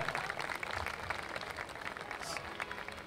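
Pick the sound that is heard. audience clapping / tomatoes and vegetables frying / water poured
audience clapping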